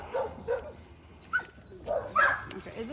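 A puppy gives several short barks and whimpery yips in quick bursts, fairly close, with pauses between them.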